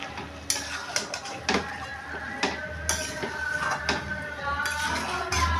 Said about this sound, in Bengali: এবার এটাকে ভালো মতো নেড়ে চেড়ে একটু আমি ঢেকে দেবো।